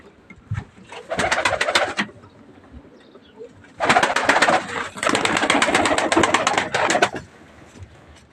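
Pigeons being let outside coo and burble in two dense stretches, with a short lull between them; the flock sounds close and fairly loud, with scattered softer calls around.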